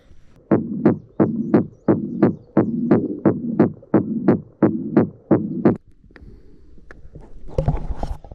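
Close, loud thumps from a Little Thumpa thumper striking a buried water line, about a dozen heavy pulses in a steady rhythm, each with a deep throbbing body, then a quieter hum and rising noise at the end.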